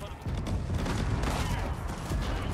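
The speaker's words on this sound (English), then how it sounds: "A cannon." Cannon fire in an Age of Empires IV multiplayer battle, a dense rumbling volley of booms and blasts filling the clip, with faint voices underneath.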